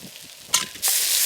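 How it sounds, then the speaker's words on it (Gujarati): Potatoes, eggplant and onion sizzle in a hot pan with a short stirring scrape, and then a loud, steady frying hiss. "હવે આપણા બટેકા અને રીંગણા અને ડુંગળી ને બધું સારી રીતે પાકવા માંડ્યું છે"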